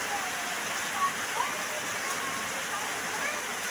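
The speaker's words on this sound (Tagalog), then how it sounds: "Lakas ang ulan." Heavy rain during a storm pours down in a dense, steady roar of hiss with no letup, loud and close throughout.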